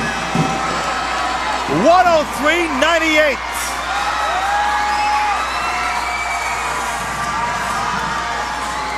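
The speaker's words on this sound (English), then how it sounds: "listen to the crowd enjoying the action" A basketball crowd at a tournament final between the Aces and the Dragons cheers and whoops in short bursts, with excited shouts rising early and a steady arena murmur continuing beneath a commentator's voice.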